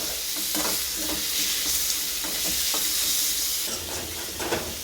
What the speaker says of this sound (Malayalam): തക്കാളി നന്നായി വഴറ്റിയെടുക്കുക